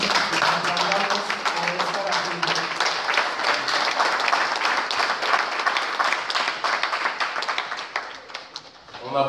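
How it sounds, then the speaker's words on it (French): An audience at a talk in Barcelona applauds itself, with dense, sustained clapping that fills the whole stretch before thinning out at the end. "Que chacun d'entre vous s'applaudisse pour sa présence ici aujourd'hui."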